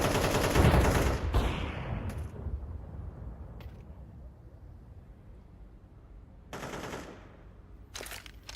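Rapid video-game gunfire in a Hindi live stream, starting with a loud dense burst of automatic shots, then a fading tail with sparse distant pops and two more short bursts near the end.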